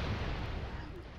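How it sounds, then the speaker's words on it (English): A grenade explodes in the video game Broforce, heard as a dense, booming low rumble filling the whole short stretch, loud and close with no distinct separate blasts. "That's a grenade."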